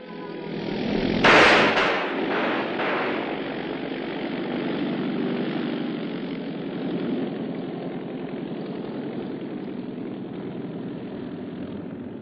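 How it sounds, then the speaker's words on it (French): Nazi propeller airplane flying overhead, a steady broad engine drone that holds for many seconds after a brief sharp burst near the start, slowly easing off. "C'est l'avion que je pense"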